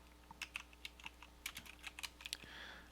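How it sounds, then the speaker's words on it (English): Keys clack on a computer keyboard as someone types a short phrase, a quick irregular run of crisp close taps in a quiet room. "I'll go ahead and type visual technologies again."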